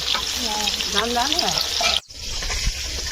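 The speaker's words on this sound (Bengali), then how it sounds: "ওর বাবা ওইদিকে মাছ ভাজছে" Rohu fish sizzles loudly in a pan of hot oil, a steady close crackle with a voice talking over it early on, then a brief break before the frying resumes.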